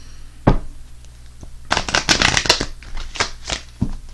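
Angel answer cards being shuffled by hand: a sharp tap, then a dense burst of riffling and flicking, followed by scattered softer card snaps, close and alone.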